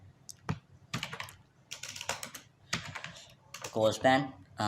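Rapid bursts of computer keyboard typing as HTML code is entered, close and clicky with short pauses between runs of keys, with someone speaking softly over part of it.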